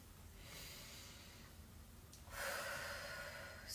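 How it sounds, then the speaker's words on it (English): Slow, deep breaths drawn in and let out through the nose during a yoga pose, soft and close, with a sharper, louder exhale near the end and no talking. "Just keep breathing."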